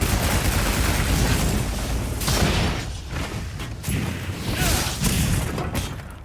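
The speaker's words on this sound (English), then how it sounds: "Cause a bunch of explosions." Repeated explosions from a charged axe attack in the Monster Hunter Wilds video game, a dense run of loud booming blasts and crashes rolling on for several seconds.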